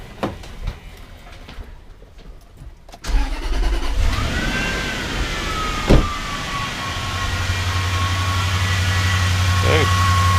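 A car engine cranks and catches, then settles into a steady idle hum that continues to the end, with a few clanks and a rising whine along the way, in a garage.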